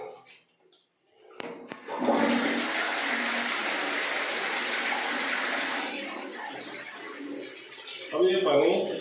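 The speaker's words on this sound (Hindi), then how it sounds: "अभी हम उसको फ्लश करके देखेंगे।" A western toilet that was just repaired for a water leak flushes with a loud, continuous rush of water lasting several seconds, then fades into gurgling as the tank refills.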